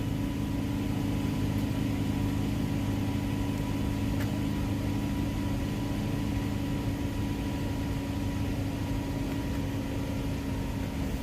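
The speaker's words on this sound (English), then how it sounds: "starting their car. I don't know why they need to warm their car up for." A parked car's engine idles steadily while warming up outdoors, producing a constant low hum with no change in level throughout, fairly loud and close with no voices.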